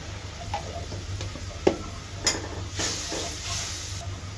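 Chopped potatoes fry in spiced oil in a kadai, a soft steady sizzle with occasional sharp ticks and spatula scrapes, fairly quiet overall.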